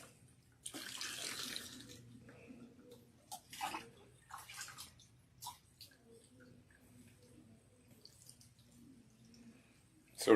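Water runs and splashes in bursts as shampoo is rinsed out of hair, irregular close spattering with quieter gaps and faint movement between surges.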